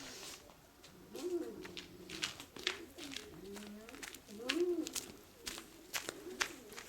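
Pigeons cooing close by in soft, repeated throaty bursts, with rustling, shuffling and scattered clicks around them.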